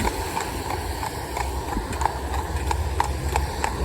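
Horse hooves clip-clop in a steady walking rhythm outdoors, each step a clear, moderately close strike over a constant low background rumble.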